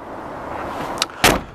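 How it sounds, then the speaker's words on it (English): Doors on a Ford Transit 330 short-wheelbase van slam shut close by, a lighter thud followed by a louder, sharper bang about a quarter second later. "Closing the doors"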